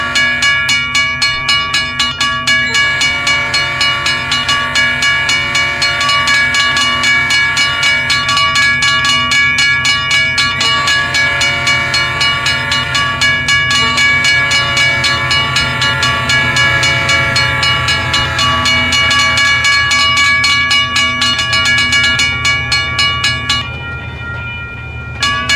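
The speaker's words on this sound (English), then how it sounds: "let me go ahead and honk this train through." A loud, sustained train horn in Trainz blares almost continuously for over twenty seconds, rich and harmonic, cutting off briefly near the end.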